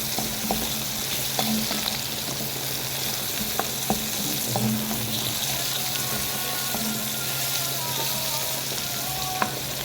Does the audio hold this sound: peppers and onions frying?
yes